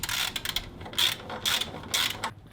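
A socket ratchet tightening the swing arm mount on a 1994 Kawasaki KX250 dirt bike, giving four repeated rasping clicks in steady strokes, close and alone.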